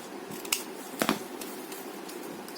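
Scissors trim paper ephemera for a small journal folio, giving a few quiet, close snips spaced apart against a faint room hush.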